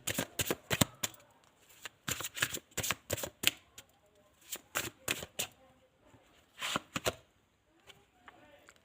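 Tarot cards are shuffled and drawn from a deck in a quick run of crisp, close riffling flicks and snaps, arriving in short bursts with brief pauses, with no talking.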